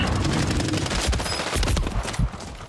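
Rapid automatic gunfire from the video game Call of Duty Warzone, a dense loud fusillade of shots filling nearly three seconds with little break.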